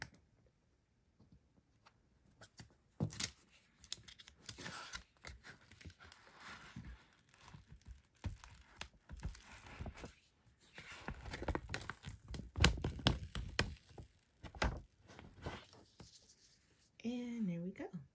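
A weeder picking at and peeling printed vinyl for a Croc charm, with soft scratching, ticking and crinkling sounds in short irregular bursts, faint and close, under occasional speech.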